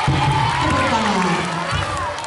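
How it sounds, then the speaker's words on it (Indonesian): Children in an elementary school classroom at SDN Lubang Buaya 06 in Jakarta cheer and shout together, a steady crowd noise filling the whole moment with voices layered over it. "Tepuk tangan."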